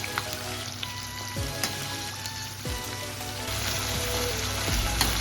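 Prawns frying in a pan over a low gas flame while making daab chingri: a steady, close sizzle with crackling pops and light stirring noises, slowly growing a little louder.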